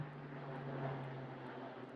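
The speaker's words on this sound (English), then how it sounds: "there's an aeroplane going through" An aeroplane passing overhead, a low, steady engine drone with a faint hum, distant and quiet, continuous.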